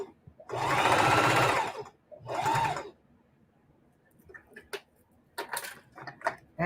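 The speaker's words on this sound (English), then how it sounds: "I'm just going to sew across the bottom" Sewing machine stitching across the bottom of a patch on a vintage stretchy-fabric rag quilt, running in two loud, close bursts, the first about a second and a half long, followed by quieter clicks and handling of fabric.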